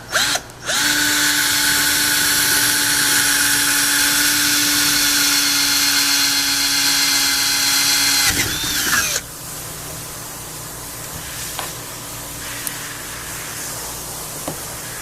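A power drill bores a hole with a 3/8 bit into the frame of a Hobie Pro Angler 14 kayak while fitting landing gear, one loud steady whine for about eight seconds, then quieter handling noise.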